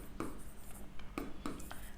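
Pen or pencil scratching on paper while working a geometry problem, a few quick faint strokes at uneven intervals, quiet and close.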